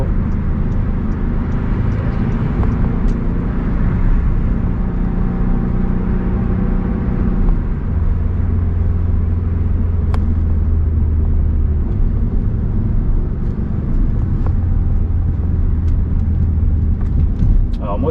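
An Audi S3 8V car drives and makes a U-turn, its engine a steady low rumble close by with a slight shift in tone partway through, heard from inside the cabin.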